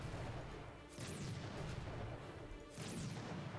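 Artillery fires in the strategy game Codex of Victory, two low booming shots a couple of seconds apart, each with a sharp crack on top, over a steady rumbling game backdrop.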